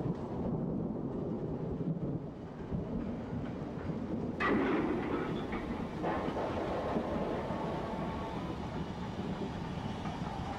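LMS Black Five steam locomotive running on the line, a steady rumbling roll of the train with a sharper burst of noise midway, heard at moderate distance without speech.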